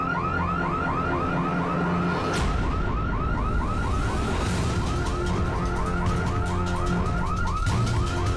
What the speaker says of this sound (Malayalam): ഈ സെക്യൂരിറ്റി അലാം എന്താ മുഴങ്ങുന്നേ?